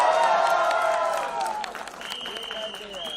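An audience claps and cheers at a film trailer launch press meet for Tu Jhooti Main Makkaar, a brief burst of applause and crowd noise that fades quickly, with voices talking over it.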